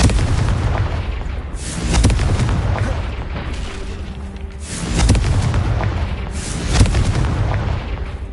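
Fiery Confringo spell blasts in the Hogwarts Legacy video game, several loud booming explosions with rumbling tails recurring every couple of seconds over a dense battle din.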